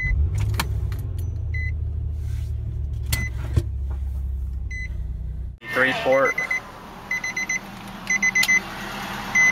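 Nissan Maxima interior with the key put in the ignition: keys rattle, then a run of repeated short electronic warning chimes sounds close and clear after the engine noise drops, with someone speaking.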